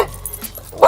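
A dog barks once, loud and close, at the very end, after a near-silent moment with a faint whimper, in a driveway where a car is being readied for an oil change.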